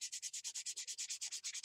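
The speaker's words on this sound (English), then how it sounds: "Now the rest of them, you just sand it like you normally would." Rhythmic back-and-forth sanding on the edge of a model rocket fin, about sixteen quick even strokes, close and fairly soft, with no voices.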